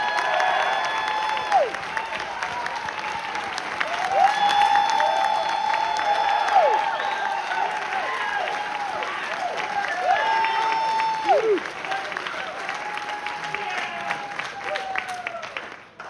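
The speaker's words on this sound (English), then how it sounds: "So give them a round of applause." A school jazz band audience applauds its trombone players, sustained clapping with scattered cheers and whoops, while sliding trombone-like tones and some voices sound through the crowd noise before it thins toward the end.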